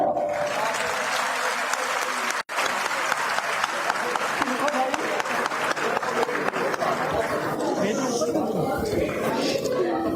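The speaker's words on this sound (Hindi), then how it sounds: "महिलाओं वाली वो ताली दिखा दो" Women in the audience of a women's conference in Panchkula clap together, a dense and sustained round of applause with a brief dropout near the start and some voices mixed in beneath it.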